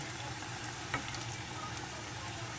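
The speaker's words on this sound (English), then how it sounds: "It doesn't take long at all for these to cook." Pancake balls frying in a pan, giving a low, steady sizzle and crackle with a faint tap or two from turning them, quiet and without talk.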